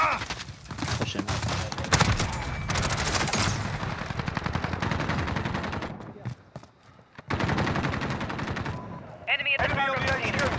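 Heavy bursts of automatic gunfire and rapid shots in a Call of Duty match, loud and dense for several seconds, dropping briefly before more firing resumes, with game voices faintly mixed in.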